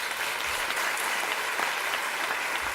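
Brief burst of audience clapping for performers at a Sikh sacred music evening, a close, even patter of many hands with no talking.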